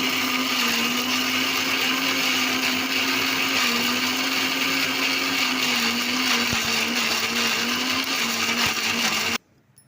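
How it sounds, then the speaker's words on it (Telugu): A mixer grinder whirring loudly at home as it grinds batter for pesarattu, a steady high motor whine with constant pitch that runs nearly ten seconds before cutting off abruptly. "మిక్సీ వేస్తున్నా ఇప్పుడైతే."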